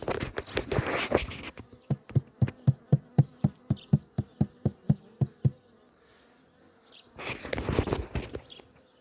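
Scout honeybees buzz around a house where a swarm is expected, loud close buzzing bursts at the start and end framing a steady run of rhythmic pulses, with no talking.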